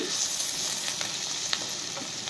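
Beans frying in a pan while being stirred, with a continuous close sizzle and a few light scrapes of the spoon.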